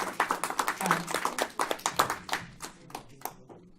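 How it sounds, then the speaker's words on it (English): A group of people clap by hand at the close of a meeting, a brisk run of sharp claps that thins out toward the end, with voices mixed in. "Let's keep clapping as Teresa leaves"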